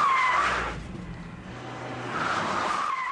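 A car skids and squeals its tyres through a handbrake-turn stunt, performed by stunt driver Russ Swift, with loud screeching at the start and again toward the end over a steady engine roar.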